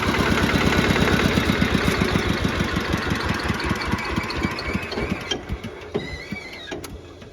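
A Kubota KRT-140 household walking tractor engine runs close by with a loud, rapid, even chugging beat that persists throughout, thinning slightly near the end as a few faint mechanical clicks and a brief high whine surface.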